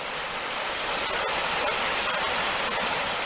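A creek runs fast around rocks, keeping up a steady, close, broadband rush of water throughout with no voices.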